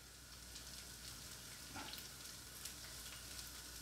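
Cabbage frying in oil in a pan for chicken chow mein, a steady close sizzle with faint crackle throughout, no speech.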